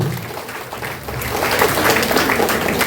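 An audience claps at the opening ceremony of the Ashada Habba 2025 festival, a dense, continuous wash of applause that swells slightly louder after the first second.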